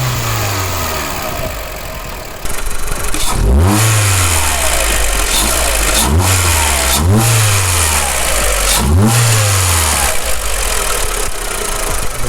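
A VW Polo Mk5 1.4 with a performance air filter sits idling loudly, then its engine is revved up four times in quick succession, each rev rising and falling back, with induction roar close by and no talking.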